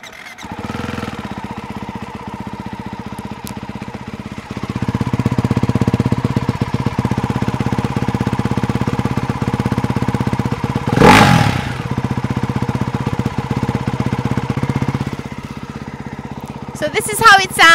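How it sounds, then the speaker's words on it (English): The single-cylinder engine of a Ducati Hypermotard Mono 698 idles and then holds a loud, raspy rev for several seconds, with one sharp surge of throttle partway through and a chattering mechanical edge, recorded close up with no speech. "So this is how it sounds, Ducati Hypermotard Mono 698."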